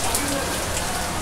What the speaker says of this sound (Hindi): बारिश एकदम ऐसा फुल ऑन बारिश